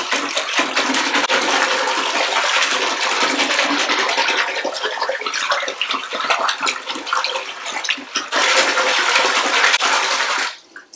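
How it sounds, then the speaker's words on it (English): Grated soap being swished through warm water by hand in a basin, a steady close sloshing and rushing of water lasting about ten seconds before stopping abruptly at the end. "So I'm going to give it a swish."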